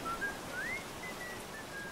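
A man whistles a cheerful tune in the video game Aliens: Dark Descent, with thin sliding and held notes, fairly quiet over a low background hum.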